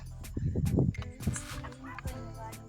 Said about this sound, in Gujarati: કૂતરું બોલે